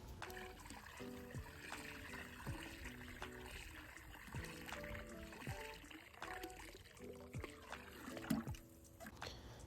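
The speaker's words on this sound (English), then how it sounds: "and then we'll pour it around the pool." Diluted copper-based algicide is poured around a swimming pool as a faint, steady trickle and splash of liquid with light clatter.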